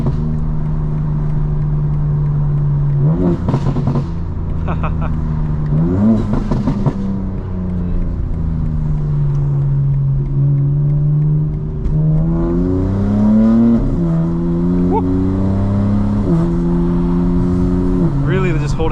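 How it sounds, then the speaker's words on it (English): A 900 hp 2025 BMW M4 Competition xDrive with an aftermarket intake revs and drives at night, its engine note rising and falling through gear changes, with intake whooshes and hisses between pulls, loud and close throughout. "you need an intake with this car. It just sounds so good."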